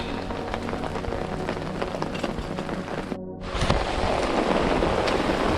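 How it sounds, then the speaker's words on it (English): Steady rain falls on a mountain campsite, a constant dense hiss of drops on surfaces that swells a little louder toward the end after a brief dip. "Like it's raining and stuff."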